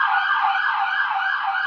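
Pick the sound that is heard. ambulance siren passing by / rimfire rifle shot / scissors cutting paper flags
ambulance siren passing by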